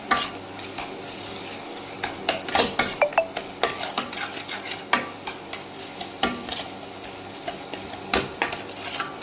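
Green chili dropped into hot oil sizzles in a pan while cooking a Tangra fish curry (thin jhol), with steady frying hiss broken by sharp clicks and clinks of a utensil stirring.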